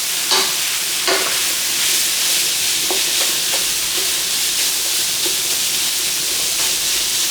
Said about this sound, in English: We're just gonna brown the ham a little bit before we add in our vegetables.